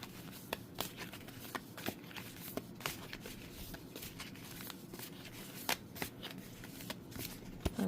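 Tarot and oracle cards being shuffled by hand, soft papery riffles and sharp snaps recurring at irregular intervals, close and fairly quiet with no talking.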